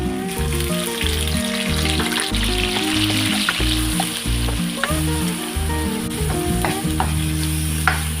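Ground paste frying in hot oil for a Muslim-style mutton kofta curry, a steady loud sizzle with occasional stirring scrapes throughout, over a continuous tonal music-like background.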